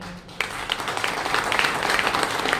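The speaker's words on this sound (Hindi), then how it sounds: "तालियों से इनका स्वागत करें" Villagers clap to welcome a newly arrived patwari at a village gathering, a sudden burst of dense applause that starts abruptly and holds steady, loud and close.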